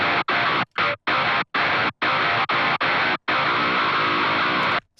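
Distorted electric guitar run through an Arturia Tape Mello-Fi lo-fi plugin with a low-pass filter plays a loud, staccato riff of clipped bursts with abrupt gaps, ending on a longer held chord, no talking.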